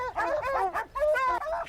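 Hunting dogs tied up beneath a treed cat bay and yip in a whimpering, wavering chorus, close and steady, with no talk over them.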